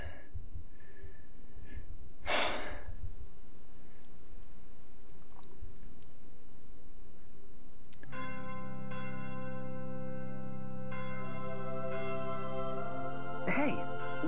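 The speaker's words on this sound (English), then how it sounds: "why are they clanging that infernal bell?" A church bell tolls in Fire Emblem Echoes: Shadows of Valentia, its sustained ringing tone starting partway through and hanging under steady game ambience, with a second sharp strike near the end.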